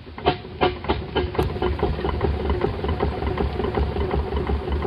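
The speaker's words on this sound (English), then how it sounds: "That's the sound of a steamroller" A steamroller engine chugs steadily nearby, a low rumbling idle with a few sharper puffs or knocks early on, running continuously on its own.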